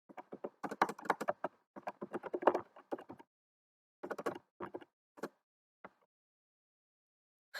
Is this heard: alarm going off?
no